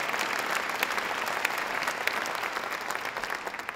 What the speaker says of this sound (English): Please give Rich a big round of applause